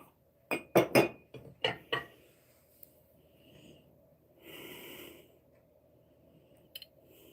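Thick ruby red stained glass Avon glassware from the 1950s clinks in a quick run of several sharp, close taps, followed by a softer rustle and one more faint clink.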